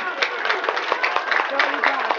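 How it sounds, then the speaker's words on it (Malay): An outdoor crowd at a daredevil stunt show applauds, brief and busy clapping mixed with a shouting announcer's voice and crowd noise. "Tepuk tangan untuk Bangsa Bintang."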